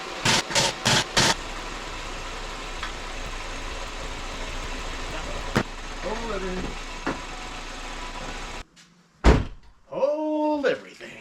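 A car engine idles through its warm-up cycle in an open garage on a freezing day, a steady low drone under knocks and thunks of work nearby, then cuts off before a person speaks briefly.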